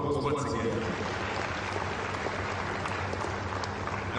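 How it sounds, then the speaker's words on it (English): Sustained applause from a conference audience at an investment summit, a steady broadband wash of many hands clapping with faint voices mixed in, even in loudness throughout. "Please, a round of applause once again."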